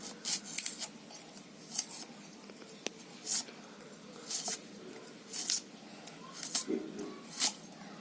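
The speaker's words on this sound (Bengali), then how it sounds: "আমি পেঁয়াজগুলো কেটে নেব" A knife chops onions on a board in a series of short, crisp strokes at an irregular rhythm, moderately close, with quiet background between the cuts.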